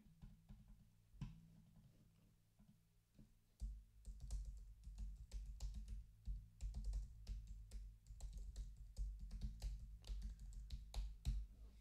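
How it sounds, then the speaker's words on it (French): Steady keyboard typing recorded through a Fifine AM8 microphone, a rapid patter of key clicks that starts sparse and then runs dense and continuous, close and fairly quiet over a low hum. "c'est lorsque je tapote sur le clavier"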